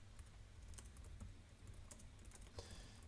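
Computer keyboard typing during a Java functional programming lesson, quick soft key clicks in uneven bursts, close and quiet.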